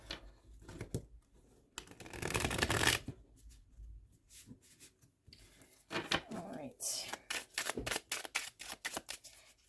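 Tarot cards being shuffled by hand during a reading, a close series of soft riffling and papery flutters in two main bursts with quicker tapping rustles between, no talk.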